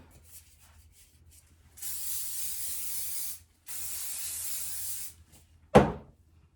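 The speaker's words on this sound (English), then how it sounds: "So then obviously I'm gonna spray it and kind of smooth it" Two sustained bursts of hairspray hiss from an aerosol can, each lasting about a second and a half, close and fairly loud, misting over a big-hair updo, followed by a short sharp knock.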